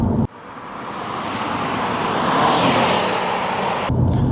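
Steady broadband cabin road noise inside a 2012 Subaru Impreza WRX STI A-Line automatic cruising at 50-60 mph, a constant rushing roar that swells slightly and holds without talk.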